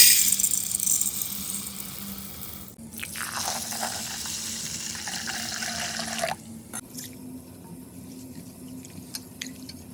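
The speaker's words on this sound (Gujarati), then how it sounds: "હવે આ ચોખા છે ને આપણે ધોઈ નાખીએ" Rice being washed in water in a home kitchen for a Gujarati rice Maggi dish, with sloshing, splashing water that swells into a louder rush midway and then settles into softer drips and trickles.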